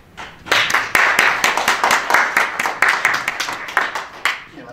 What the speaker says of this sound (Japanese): 盛大な拍手ありがとうございます。